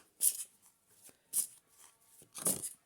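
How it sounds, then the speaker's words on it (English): Oracle cards shuffle in three quick riffling bursts separated by short pauses, each a crisp close flutter of card edges against near silence. "So I'm going to pull an oracle card"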